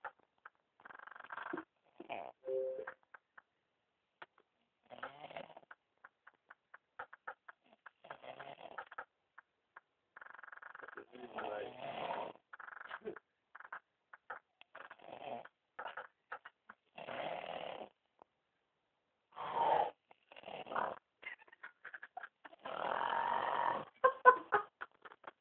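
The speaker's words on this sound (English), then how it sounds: "Got this motherfucker snore, man." A person snoring loudly in a quiet room, with irregular rasping breaths that come in uneven bursts and grow stronger toward the end, with no talk over them.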